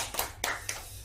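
Church congregation clapping in a worship service, a few distinct hand claps at an uneven pace, close and crisp against a quiet room.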